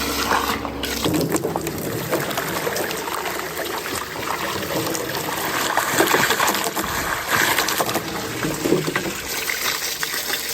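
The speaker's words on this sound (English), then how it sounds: "take the water hose to it, and clean all that off" A water hose sprays fertilizer residue off a metal spreader, a steady loud rush of spattering, trickling water running throughout with shifting splashes.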